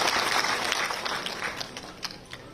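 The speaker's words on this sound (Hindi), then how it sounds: "एक बार जोरदार तालियों की गड़गड़ाहट से उनका स्वागत करना चाहूंगी आप सभी के बीच में" A crowd at a women's empowerment event in Rajasthan welcomes guest CP Joshi with loud, dense applause that tapers slightly over a few seconds.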